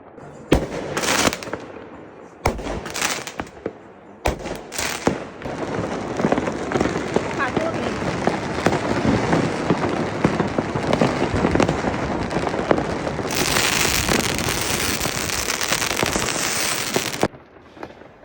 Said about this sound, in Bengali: এই যে শুরু হলো আতশবাজি, আর থামাথামির নাম নেই।